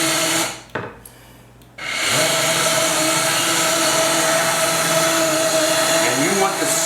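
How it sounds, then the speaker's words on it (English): An immersion blender purees soup in a home kitchen: a short burst of whirring, a brief pause, then a loud, steady motor whine that runs continuously and close by. "So this is my immersion blender."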